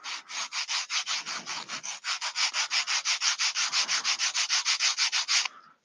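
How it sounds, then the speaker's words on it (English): Model rocket fins held together and rubbed on sandpaper, a fast regular back-and-forth rasping of about five strokes per second, close and loud, continuing steadily before stopping abruptly. "I'm going to hold them together and sand them on the sandpaper until they're all the same size and shape"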